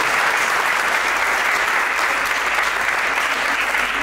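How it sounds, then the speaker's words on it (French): A large crowd gives warm, sustained applause at a welcome and orientation day for new baccalaureate graduates in Thiès, a thick, continuous, loud wall of clapping with no voices on top. "je voudrais vraiment que vous lui rendrez hommage par des applaudissements nourris"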